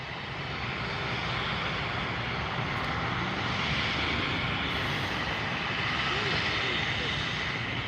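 An Aerolíneas Argentinas airliner taxis at Miami International Airport, its jet engines giving a steady, loud broadband roar that holds without pause, with faint talk beneath.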